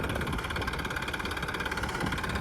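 A tractor engine idles at a moderate distance with a steady, rhythmic chugging pulse that holds even throughout the short stretch.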